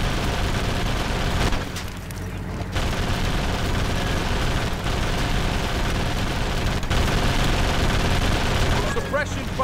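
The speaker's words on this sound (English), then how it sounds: "Suppression fire." Sustained suppression gunfire in Full Spectrum Warrior on Xbox forms a steady roar of overlapping shots and booms across the whole stretch, with voices mixed in.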